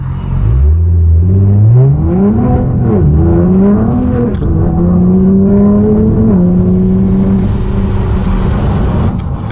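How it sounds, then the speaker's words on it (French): A powerful Nissan GT-R engine roars close by in manual mode, rising in pitch through the gears with brief dips at each shift, loud and continuous without voices. "En mode manuel, on va s'amuser en lançant la voiture."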